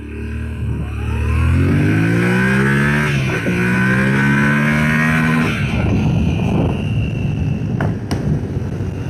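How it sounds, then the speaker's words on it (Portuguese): A Yamaha Ténéré 700 motorcycle, traction control off, accelerates hard in second gear, its engine note climbing loud and close before hitting the injection cutoff near 98 km/h; the revs then drop away into rougher, broken engine and wind noise. "Mais uma passada, TCS off. Vamos tentar bater o 100 em segunda marcha. Ganhando um pouco de rotação."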